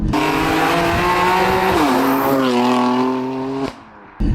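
A tuned 700 wheel-horsepower turbocharged BMW M2 Competition engine roars loudly as it accelerates, its pitch climbing, dipping at a gear change, then climbing again before cutting off abruptly.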